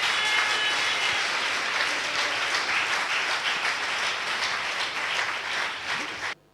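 A church congregation at a worship service applauds with a loud, dense, continuous wash of clapping that holds steady for several seconds and then cuts off abruptly.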